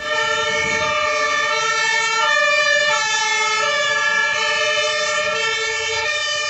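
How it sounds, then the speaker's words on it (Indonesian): A toy fire truck's electronic siren wails steadily and loudly for the whole stretch, a bright buzzy tone with many stacked harmonics, heard up close with no talking over it. "ada mobil pemadam kebakaran"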